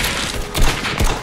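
Rapid gunfire in a Roblox Arsenal match, a dense burst of shots with a couple of heavier thumps, steady and fairly loud through the short stretch.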